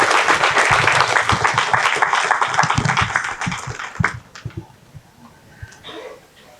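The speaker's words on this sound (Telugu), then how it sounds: "మరి ఈ గ్రేట్ మాస్టర్కి గట్టిగా చప్పట్లతో స్వాగతం పలుకుదాము." A meditation event audience claps loudly to welcome a speaker, dense sustained applause that thins into scattered claps and fades out over several seconds.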